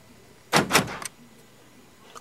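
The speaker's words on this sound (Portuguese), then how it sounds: "o alarme tenta travar a porta, aí dá o erro porque a porta tá aberta" A car's aftermarket alarm tries to lock the doors while a door stands open, giving two loud mechanical thunks in quick succession, then a shorter clack, followed by faint quiet.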